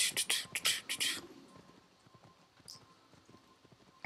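Horse hooves clip-clop in Assassin's Creed, a quick run of sharp, bright hoof strikes close up for about a second before fading to faint scattered steps and ambient game noise.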